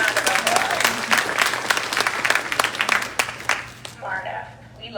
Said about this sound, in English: Everybody give Marna a pretty round of applause